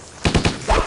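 Gunfire from the video game Stubbs the Zombie: a quick burst of four or five loud, punchy shots in rapid succession, close and dry with no talk over it.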